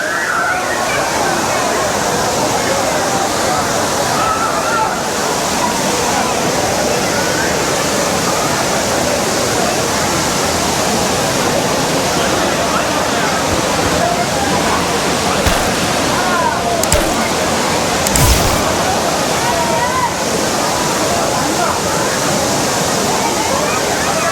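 Aintharuvi, the five-stream waterfall at Courtallam, roars in a continuous loud wash of falling water where people bathe, steady and close throughout with a few brief splashy bursts.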